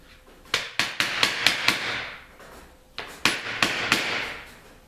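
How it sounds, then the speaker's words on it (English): Two clusters of sharp, close knocks, about six then four, as garlic cloves are crushed, each strike ringing briefly before the next; no talking. "I have 2 cloves of garlic right here. Okay, 2, and then I'm gonna crush them"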